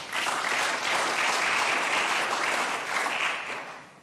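Sustained applause from an audience honouring South African workers at the Toyota plant in Durban, KwaZulu-Natal, steady and full for about four seconds before tapering slightly at the end.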